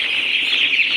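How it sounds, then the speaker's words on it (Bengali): A dense, continuous chorus of high-pitched chirping from many broiler chicks packed together on a poultry farm, loud and close. "দেখেন এই যে দেখেন কত সুন্দরভাবে কিচিমিচি"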